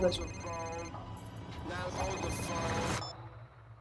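An old-school telephone rings from the Moon Knight trailer, its bright, repeating bell tones heard up close over a busy mix with voices present.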